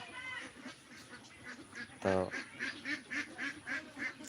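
Ducks on a small farm beside Kaptai Lake, Rangamati, let out a series of repeated nasal quacks in an uneven rhythm, fairly close, with a voice briefly speaking among them.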